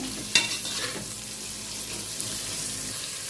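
Masala frying in a cooking pot for country chicken saru: a continuous hissing sizzle with a sharp stir or clatter near the start, steady and close, without talk.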